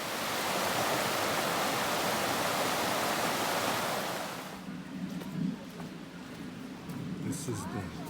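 Rushing river water at a trail crossing on the Appalachian Trail, a loud broadband roar that fills the first half, then drops to a quieter background flow under voices and small handling sounds.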